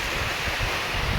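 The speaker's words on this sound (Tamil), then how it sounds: "காற்று நல்ல காற்றுங்க, அங்கேருந்து அடிக்குதுங்க பாருங்க சாரல்" Strong wind gusting across a rain-soaked paddy field readied for planting, carrying blown rain spray; a steady, close, roaring rush with low buffeting thumps against the microphone, no voices.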